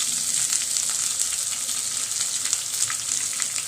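Ginger and green chillies sizzle steadily in hot oil alongside urad dal and curry leaves, a dense, even crackle with small pops throughout and no voices.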